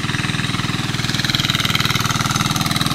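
Small engine powering a farm pagulong mud roller in a rice field, chugging in a fast, steady, even rhythm close by and loud throughout.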